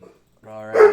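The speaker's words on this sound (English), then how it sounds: "Apologize about the dogs" Dogs bark in a single sharp burst that rises near the end, close and loud, mixed with a voice talking.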